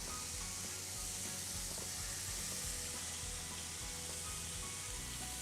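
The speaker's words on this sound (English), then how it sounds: "You can see it's sizzling." Steady, dense sizzling of chicken frying in a hot pan, a continuous crackling hiss with no voices.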